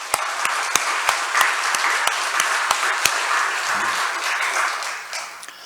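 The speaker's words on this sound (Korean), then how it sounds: "우리 하나님께 영광의 박수를 한번 드리겠습니다." Church congregation applause during a Korean worship prayer service, dense sustained clapping with sharp individual claps standing out near the front, fading toward the end.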